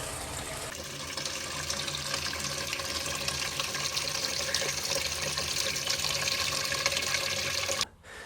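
Tap water pours steadily into a jug to mix a lawn kelp solution, a constant splashing rush that deepens as the jug fills, then cuts off abruptly near the end.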